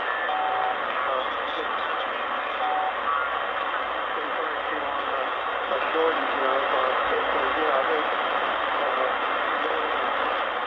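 An amateur shortwave radio tuned to 14,250 carries a narrow, hissy signal with a voice-like murmur, steady and continuous for several seconds.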